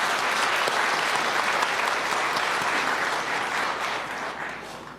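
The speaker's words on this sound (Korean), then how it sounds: "우리 이분들께 그동안의 노고에 감사의 마음을 담아 박수 한번 보내주셨으면 좋겠습니다." An audience at a Labor Day ceremony applauds in thanks to labor movement elders, dense sustained clapping that fills the hall and slowly tapers.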